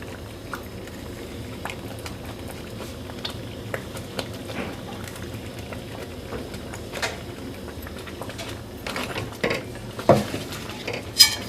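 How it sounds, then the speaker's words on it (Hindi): Semolina milk halwa is stirred in a pan on the stove as nuts go in, with scattered spoon scrapes and clinks against the pan over a soft simmering bubble, the taps growing sharper near the end. "इस टाइम पे मैं नट्स डाल दूँगी इसमें"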